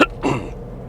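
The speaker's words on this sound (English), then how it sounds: "sorry again for the coughing" A single short, sharp cough bursts out at the start, followed by a fainter raspy breath, close to the microphone.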